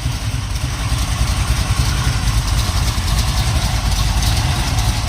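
A 1970 Pontiac Ram Air 3 stroker V8 running on pump gas with a smaller camshaft idles steadily and loudly nearby, a deep continuous rumble with a choppy, even pulse throughout.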